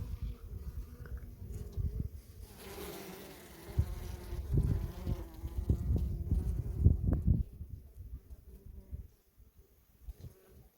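Honey bees hum and buzz close by on a hive frame bearing queen cells, a swelling drone with soft knocks and handling noises, fading toward the end.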